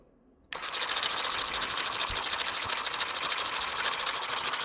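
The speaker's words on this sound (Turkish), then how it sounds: "Şu anda birebir gerçek motor gibi çalışıyor." A small model engine's crankshaft starts up suddenly and runs with a fast, even mechanical whir and chatter, steady and close.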